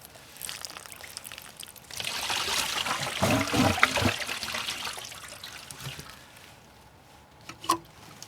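Dishwater and shower water from a 2006 Fleetwood RV's holding tank drains out in a steady trickling, splashing stream, swelling louder in the middle and easing off, with a brief clunk near the end.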